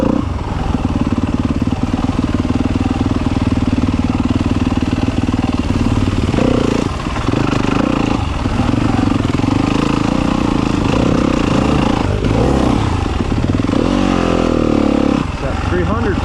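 A dirt bike ridden through woods drones loudly and steadily for the whole stretch, its engine rising and falling with throttle changes, while people talk over it.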